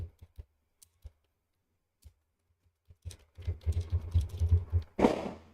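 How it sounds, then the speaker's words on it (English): Someone types on a computer keyboard: a few scattered taps, then a rapid, dense flurry of close key clicks ending in a louder clack. "Keyboard."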